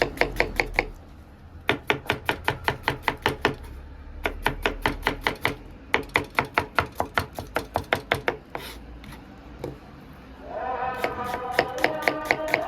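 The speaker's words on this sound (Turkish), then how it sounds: "İki adet soğanımız var. Bunları doğrayacağız küçük küçük." A knife chops onions rapidly on a cutting board in quick bursts of sharp, close taps, with short pauses between runs.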